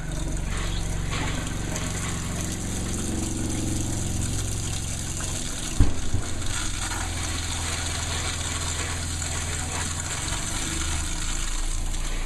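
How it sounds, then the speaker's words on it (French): A small electric RV water pump runs steadily, drawing pink antifreeze through the lines to a tap, with a low continuous drone and one brief clunk partway through; nobody speaks. "On part la pompe, on attend que le liquide vienne jusqu'au robinet."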